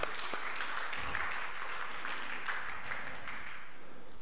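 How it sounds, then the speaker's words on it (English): A church congregation claps their hands at a preacher's invitation, a continuous, fairly loud roar of many hands filling the room throughout. "Give yourselves a hand clap"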